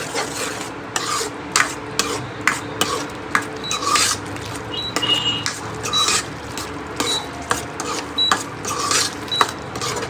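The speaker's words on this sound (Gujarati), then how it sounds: "મિક્સ કરી નાખીએ." Curry of fried potatoes being stirred in a pan with a spoon, giving repeated scraping, rubbing strokes in an irregular rhythm over a faint background sizzle, close and moderately loud.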